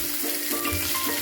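Finely chopped onions frying in hot oil with crackling mustard seeds in a pan, a dense, steady close sizzle with faint pops throughout.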